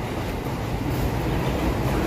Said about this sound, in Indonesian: itu ada kereta api, nanti saya terangin